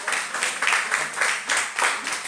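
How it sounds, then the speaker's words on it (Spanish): Audience applause during a Spanish-language talk show interview with a playwright, short bursts of clapping rising and falling in a quick rhythm for about two seconds. "Esto muy bien, aplauso, Camino."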